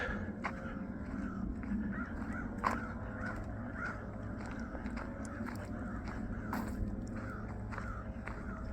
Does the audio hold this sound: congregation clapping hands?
no